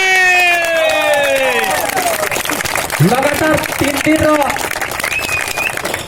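Crowd at a tournament prize ceremony applauds and cheers the finalist team, loud sustained clapping and shouts with an amplified voice and whistling tones over it.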